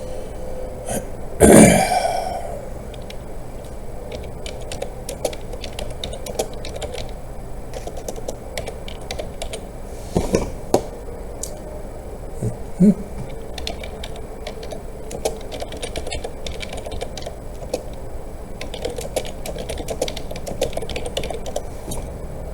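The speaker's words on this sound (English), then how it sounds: "I'm going to start typing" Someone types on a computer keyboard indoors with scattered clicking keystrokes, close by and at uneven pace. A short burp-like vocal sound comes early, and a few louder knocks follow later.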